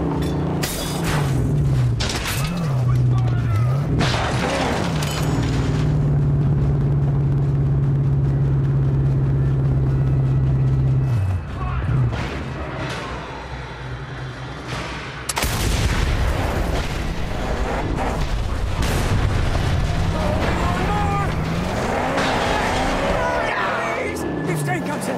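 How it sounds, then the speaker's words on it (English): Cars roar and explosions boom in the Mad Max video game, engine drones rising and falling between heavy blasts, loud and close, with a voice talking over parts of it. "it makes a nice explosion"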